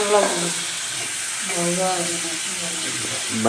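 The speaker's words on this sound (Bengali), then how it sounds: "বাইম মাছগুলো ভালো করে ভেজে নিতে হবে" Spiny eel (baim) fish frying in mustard oil with whole cumin in a pan gives a steady, bright sizzle throughout, with a melodic voice carrying over it.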